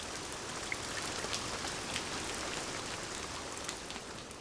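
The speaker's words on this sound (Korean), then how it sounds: "처마 끝에서 떨어지는 빗소리를 들으면" Rain falls steadily from the eaves of a traditional Korean hanok, a continuous close hiss of drops and splashes that stays even throughout, with no voices.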